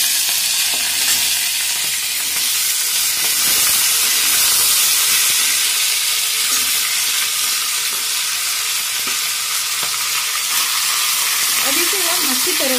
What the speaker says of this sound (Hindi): अब इसमें हम सब्जी डालेंगे।